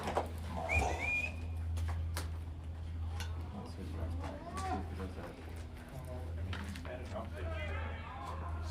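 A person whistles a few short, scattered tunes at a Skeeters baseball game in Palm Springs, with people talking throughout and a steady low hum underneath.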